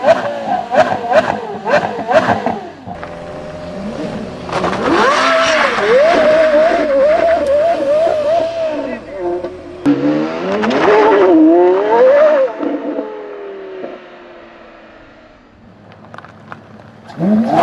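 Porsche V10 sports car engine revving hard and accelerating through gears, a loud rising and falling howl with sharp bursts and a fading pass near the end; faint voice traces underneath.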